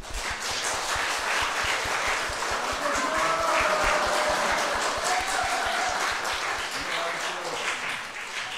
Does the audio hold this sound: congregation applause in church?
yes